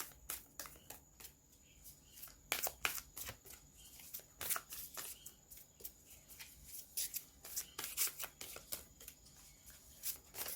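Oracle cards are shuffled by hand: quiet, repeated riffling and slapping bursts in an irregular rhythm, with no talking.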